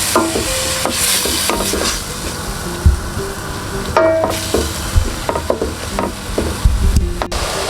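Continuous stirring and frying in a pot, with a spatula scraping and clattering against the metal over a steady sizzle, close and fairly loud, with no talking.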